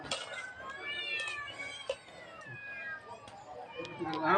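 A cat meows repeatedly in short, wavering cries, fairly close, with faint background clatter and a few soft voices.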